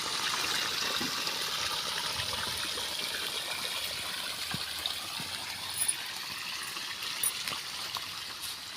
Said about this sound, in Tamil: மாமரத்துக்கு தண்ணி பிடிக்கிறேன்